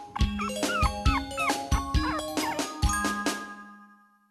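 Short, bright puppy barks and yips come in a quick rhythmic run, about eight in all, mixed with chiming musical tones that ring out and fade at the end.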